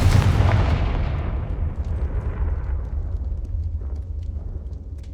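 Confringo fire spell blast in Hogwarts Legacy, a single loud booming explosion up front that rolls off into a long, fading rumble.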